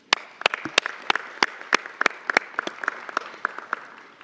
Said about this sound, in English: I think that it's worth applauding our community for doing that.